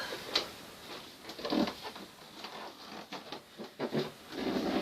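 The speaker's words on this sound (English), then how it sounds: "super squeaky floor, bare feet and wooden floors" Creaks and soft thumps from a squeaky wooden floor come in irregular bursts as someone walks across it barefoot, fairly quiet with no talking.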